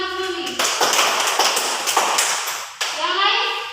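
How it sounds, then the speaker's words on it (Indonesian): Children clapping together in a classroom during a religion lesson, a dense burst of hand claps filling the room between a voice at the start and more young voices at the end. "terus tepuk tangan untuk Mami."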